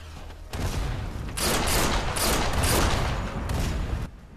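Gunfire in the Sniper Elite VR game, heard as a sustained burst of loud, dense shots lasting several seconds with no speech over it.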